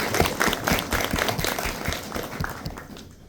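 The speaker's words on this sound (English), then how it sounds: "Let's give all a big round of applause." A crowd applauds at an Indo-Pacific health security alliance conference in Papua New Guinea, with dense, fairly close clapping from many hands holding steady throughout before easing off at the end.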